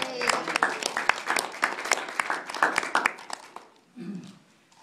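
An audience breaks into applause and cheering at a retirement event, with a dense burst of close, sustained clapping that thins out and fades toward the end.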